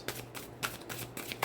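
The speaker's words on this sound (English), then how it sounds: "that card being in the deck as I'm shuffling" A deck of tarot cards being shuffled at close range, giving repeated soft riffling bursts in an irregular rhythm, with no voices.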